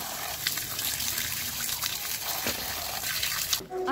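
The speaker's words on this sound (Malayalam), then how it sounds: "നന്നായിട്ട് നല്ലവണ്ണം നമുക്ക് ഉരച്ച് കഴുകി എടുക്കാം അതിനെ" Muddy tapioca roots being scrubbed and washed in water, with steady splashing, trickling and rubbing noises running continuously at close range before a brief stop near the end.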